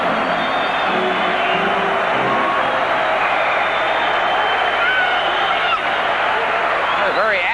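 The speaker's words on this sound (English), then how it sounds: "the fans are starting to clap and chant and cheer here at the Winnipeg Arena" A hockey crowd at Winnipeg Arena during the 1981 Canada Cup, a steady roar of clapping, chanting and cheering filling the arena while a commentator talks over it.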